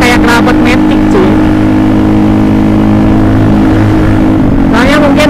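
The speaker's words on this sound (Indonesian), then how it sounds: "ini benar-benar kayak knalpot matic cuy" Suzuki Satria FU motorcycle running through a CLD C1 muffler with a 38 mm inlet, giving a soft, scooter-like exhaust note; a steady close idle drones throughout while a person talks over it at the start and end.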